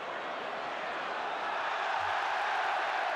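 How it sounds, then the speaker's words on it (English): A football crowd at Newcastle rises in a broad, steady roar for Asprilla during a Premier League match against Manchester United, distant and swelling slightly, heard alone without talk. "the crowd rising to him"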